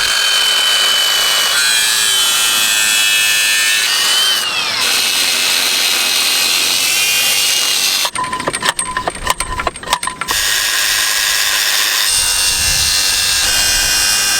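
A loud power tool grinds and cuts continuously, with a harsh rattling stretch partway through, during well hookup work at an old mansion.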